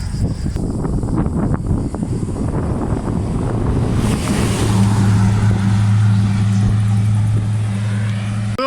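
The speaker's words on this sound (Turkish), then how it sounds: "Bayağı bir rüzgar rüzgar esiyor." Loud, gusty wind roars and buffets the microphone throughout, on a forest road walk toward Rize, Turkey, with a low steady hum emerging in the second half.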